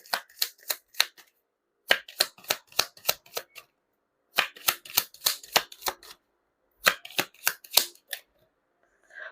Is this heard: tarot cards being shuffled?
yes